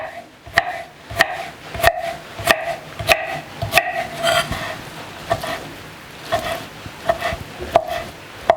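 Sharp knife chops strike a cutting board in an uneven rhythm as chicken breast is cut into pieces, a dozen or so close, crisp knocks with brief pauses between runs.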